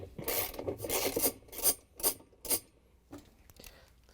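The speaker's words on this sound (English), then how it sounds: "We're just going to use a 7/16 inch socket with the ratchet and an extension." A ratchet with a 7/16 inch socket and extension loosens the agitator bolt on a GE washing machine, giving a few rasping scrapes followed by three crisp clicks, close and fairly quiet.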